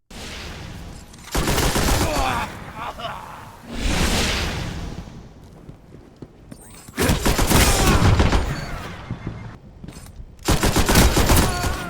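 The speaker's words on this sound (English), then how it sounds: "The heavy machine gun, the Silver Dread, falls in a very, very lethal archetype of the 77 rate of fire and 37 impact class" Silver Dread heavy machine gun in Destiny: Rise of Iron, loud sustained bursts of rapid automatic fire separated by short pauses, close and dominant.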